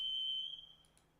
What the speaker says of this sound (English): I think my smoke alarm is going on.